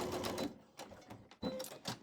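Sewing machine slowly re-stitching a seam on an Amish Star quilt block, short close whirring bursts with brief stops between them, with no talking.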